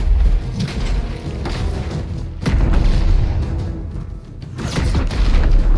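Deep booming explosions in the video game Gears of War 4, several heavy blasts at irregular intervals over a dense rumbling battle bed, loud and close, without talk.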